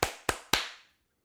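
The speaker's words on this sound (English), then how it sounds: "Put a clap in there" Three sharp hand claps for syncing a recording, close and crisp with short decaying tails in a quiet room, the last two closer together.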